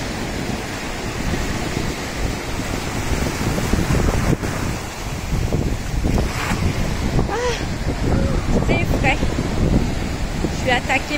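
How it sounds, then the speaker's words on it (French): Steady roar of surf washing onto a shore, with gusting wind buffeting the microphone and faint voices in the background. "Je vous laisse écouter le son des vagues qui meurent sur le sable"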